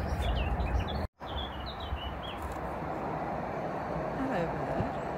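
Small garden birds chirp in a series of short, high calls over a steady outdoor background hiss, with a brief dropout near the start.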